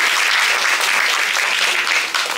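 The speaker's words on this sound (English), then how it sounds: "So a big round of applause for her" Loud, dense applause from a seated audience at a food-and-medicine talk event, many hands clapping in a continuous wash that stays strong throughout.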